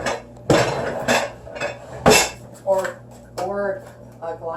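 A bowl being taken out in a home kitchen while making biscuits, with several sharp clattering knocks of dishes and crockery at irregular intervals, mixed with some short voiced sounds between the clinks.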